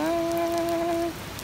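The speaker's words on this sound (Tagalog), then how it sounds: "pakinggan nyo na lang yung patak ng ulan" Rain falling and dripping outdoors while people shelter at a court during a sudden downpour, a steady hiss of drops under a strong sustained tonal hum that cuts off near the end.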